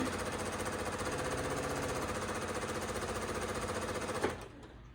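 Sewing machine running steadily with a black top thread, stitching along a line on quilting fabric, a fast even mechanical rhythm that stops abruptly near the end.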